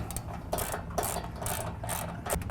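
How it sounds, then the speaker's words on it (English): A ratchet with a 13mm socket tightening the inner rocker bolt of Havoc HS2 nerf bars on a 2011 GMC Sierra 1500, heard as steady rapid clicking strokes in repeated bursts, close and loud, with no talking. "we'll go ahead and tighten up this inner rocker bolt"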